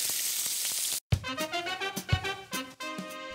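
Greek lamb cutlets frying in a pan, a steady hiss of sizzling fat at first, then after a brief gap a crackling, spitting sizzle with scattered sharp pops.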